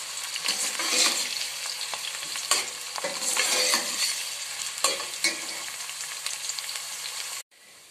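Onions for vegetable pulao sizzle steadily in a hot pan, with occasional scraping stirs, before the sound cuts off abruptly near the end.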